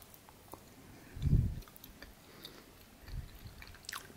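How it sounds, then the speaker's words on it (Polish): A single soft bite into mango mochi, a dense, chewy rice-flour sweet, gives one muffled squishy thud close to the mouth, then quiet chewing in a still room. "Uwaga, gryzę."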